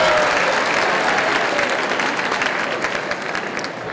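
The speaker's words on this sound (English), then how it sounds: "How about a round of applause for the best principal in the state of Connecticut, Mr. Gary McCaslin?" Audience applause at a high school assembly, a dense, steady clapping from a large crowd that fades slightly toward the end.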